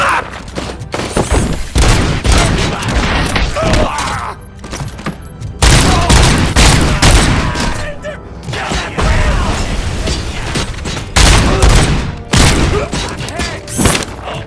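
Dense, loud gunfire from enemy gang members shooting at Robocop in Robocop: Rogue City on PS5, continuous bursts with heavy thuds and booms throughout, mixed with game music and shouted voices.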